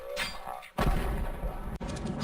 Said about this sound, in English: Oh, that's a nice nade.